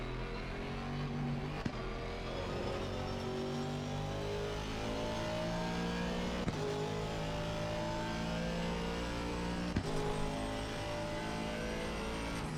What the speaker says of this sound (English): Braking, braking, braking very late, and into the turn.